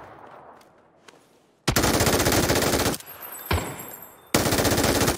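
Loud automatic gunfire in PUBG, rapid sustained bursts of shots close up, with a brief pause between volleys and faint background noise before the firing begins.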